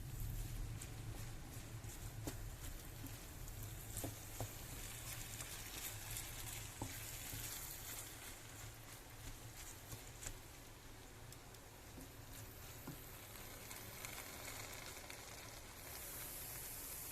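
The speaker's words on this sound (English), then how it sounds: "So we boil for about another minute" Beef stew thickened with flour bubbling in a pot, with a steady low simmering patter and faint crackle that stays even throughout.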